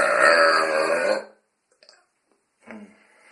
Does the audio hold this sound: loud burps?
yes